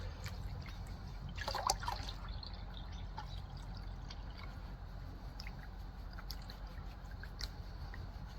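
Water trickles and washes gravel and black sand through a gold prospecting highbanker on the Wisconsin River, a steady faint outdoor flow with a brief splashier surge near the start.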